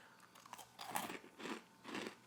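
Crunchy chocolate-dipped sweet and salty clusters bitten and chewed up close, giving about four loud, crackly crunches in an uneven rhythm with no talking over them.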